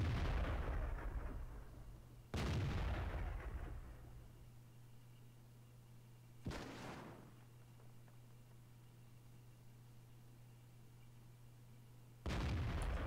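Tank cannons fire in a ranked team battle of a tank game on the Mines map, four loud booming shots spaced irregularly, each with a long rumbling decay, over a steady low engine hum without speech.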